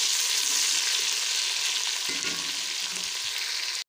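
Green chillies and lemon frying in a pot of mutton yakhni pulao, producing a dense, continuous hiss close by, steady and loud before stopping abruptly.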